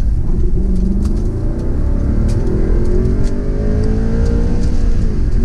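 A 2011 Audi R8 Spyder in normal mode, all-wheel drive, accelerating while merging onto a highway: a loud, close engine drone climbs steadily in pitch through the gears over continuous road rumble.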